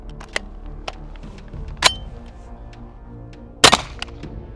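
Kriss Vector SDP Gen 2 pistol firing .45 ACP rounds: a few sharp, widely spaced cracks, the loudest a quick double burst near the end, with quieter outdoor background between them.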